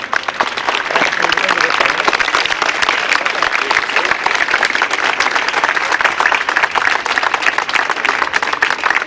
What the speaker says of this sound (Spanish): us demano un aplaudiment de suport